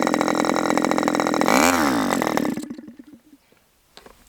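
HB 61 model engine on its first run, idling steadily with a throaty mid-pitched putter, then revving briefly and dying away after about two and a half seconds, leaving faint ticks and near silence.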